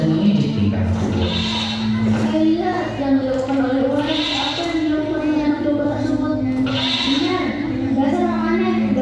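Sheep bleat repeatedly in long wavering cries during a children's drama at a school graduation, mixed with children's voices and crowd noise.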